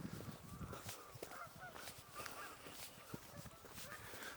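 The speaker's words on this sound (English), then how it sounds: "There's ducks there." Ducks call on the water at Gartmorn Dam in Clackmannanshire, a busy chorus of honking, quacking cries that overlap continuously, fairly faint and distant over outdoor ambience.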